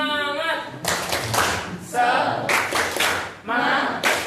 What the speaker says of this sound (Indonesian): Kita tepuk semangat dulu biar semangatnya bisa lebih semangat lagi ya.